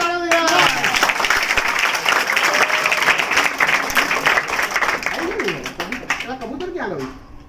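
A crowd applauds at a magic show for children with dense, continuous clapping, while voices call out and chatter over it. The applause thins out and fades toward the end.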